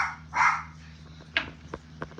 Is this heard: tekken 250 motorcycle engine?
no